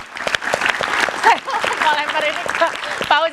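Studio audience applause during an Indonesian political talk show, a steady wash of clapping that fills the clip, with a host's voice talking over it throughout.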